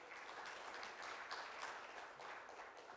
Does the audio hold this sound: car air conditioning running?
no